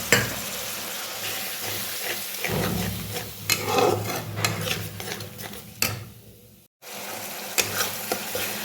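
Spice paste for ghugni is stirred and sautéed in a pan with a splash of water, giving a steady close sizzle with spatula scrapes and a brief hiss as the water hits, then a short pause.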